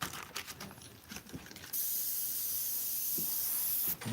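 An airbrush sprays Createx paint onto Blair synthetic paper while fur is painted, giving a steady close hiss of air that starts suddenly after some faint handling sounds and runs for about two seconds before cutting off.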